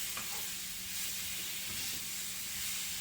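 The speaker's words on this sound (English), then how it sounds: "I want to give it some sear marks, but it's cooking up pretty fast here" Vegetables sear in a hot enameled cast iron pan, giving a steady, even sizzle and hiss that stays at a constant low level throughout, with no voices.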